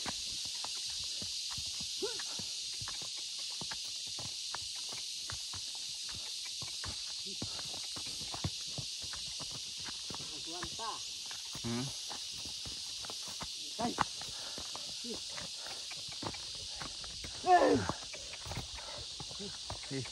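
A horse's hooves clop steadily at a walking pace, fairly close, with a constant high hiss of road or wind noise throughout.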